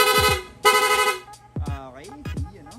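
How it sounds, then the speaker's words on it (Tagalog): Rapid horn on a Honda Click v3 motorcycle: two long, loud blasts in quick succession, followed by shorter chirps and warbling tones, close by with no talk. "Tapos rapid horn, long press lang po natin itong horn switch."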